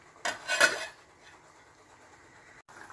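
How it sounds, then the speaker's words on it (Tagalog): A lid goes onto a pot of beef shank stew with a quick metallic clatter of cookware, followed by a quiet simmering stretch and a faint second knock near the end. "At takpan po natin para madaling maluto."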